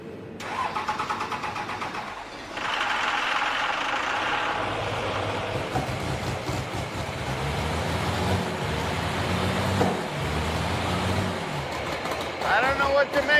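A diesel-swapped Torino wagon engine cranks and catches, then runs roughly at a loud uneven idle with a lumpy, irregular beat, up close and steady for most of the stretch.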